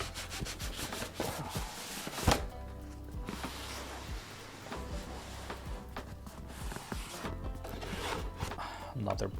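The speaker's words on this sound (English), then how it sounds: "let's go ahead and officially cut open that official PlayStation" Cutting through the sticker seal on a PlayStation Portal box, heard as close, steady rubbing and scraping of a blade on cardboard and plastic with a few sharper knocks and taps throughout.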